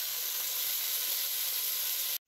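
Rump steak frying over an open fire gives a steady, dense sizzling hiss at even loudness, with no talk, cutting off abruptly at the end.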